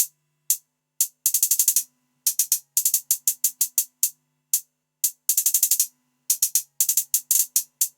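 Trap hi-hat pattern in a dark trap beat, dominated by fast rolls: crisp, bright ticks alternating single hits with rapid stuttering bursts, programmed and repeating with a faint low tone underneath.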